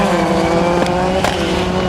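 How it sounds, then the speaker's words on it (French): Rallycross race cars, among them a Citroën DS3, scream past with loud, high-revving engines, two quick sharp bursts cutting through the continuous roar of the field. "Et Laurent Terouatin aussi qui a pris un bon départ avec la DS3."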